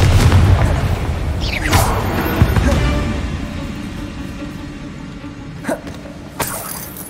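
Confringo explosive spell in the video game Hogwarts Legacy: a loud booming blast with shattering debris at the start, a long rumbling decay, then two sharper bursts later.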